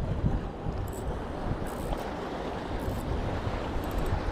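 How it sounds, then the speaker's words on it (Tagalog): Strong wind buffets the microphone on an open-water fishing trip from a small boat, a steady loud broadband roar rushing for the whole stretch with no talk over it. "medyo malakas ang hangin mga brad"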